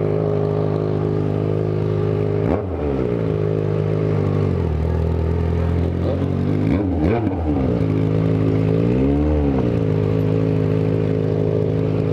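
Motorcycle engine drones loudly and steadily up close, with three throttle blips that rise and fall in pitch, the last a longer, slower swell.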